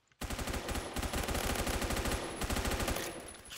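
M4A1 automatic rifle in Roblox Phantom Forces firing long, rapid bursts, loud and close, with a short pause before another sustained burst.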